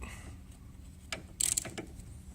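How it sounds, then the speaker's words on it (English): A ratchet socket wrench tightens a bracket while an oil separator is fitted to a 2010-2019 Ford Flex 3.5 EcoBoost, giving a few faint clicks and then a short burst of quick ratcheting over quiet background hum. "use your socket to tighten up the bracket"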